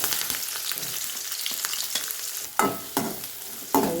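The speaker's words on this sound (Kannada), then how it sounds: "ಸ್ವಲ್ಪ ಫ್ರೈ ಆಗ್ಬೇಕು ನೋಡಿ ಉಳ್ಳಾಗಡ್ಡಿ" Onions and curry leaves fry with mustard seeds, cumin and urad dal in a pan. A continuous crackling sizzle is punctuated by a few sharp spoon scrapes near the end, close and clear, with no speech.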